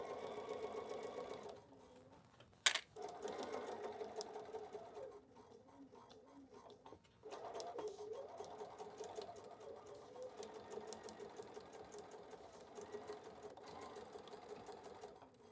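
A sewing machine stitching binding onto a quilted pillow wrap, fast rhythmic needle chatter in steady runs, stopping briefly with a sharp click before resuming, faint and close with no talk.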